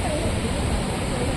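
Ripple Waterfalls in Munnar pour in a dense, constant roar of rushing water, loud and close, with a faint murmur of people somewhere in the background.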